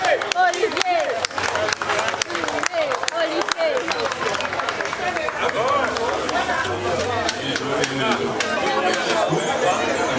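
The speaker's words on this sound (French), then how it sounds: "Donc, je vous laisse applaudir." A crowd applauds the winner of a Grand Prix race in Vieux, with scattered claps and cheers under steady chatter and a nearby voice talking throughout.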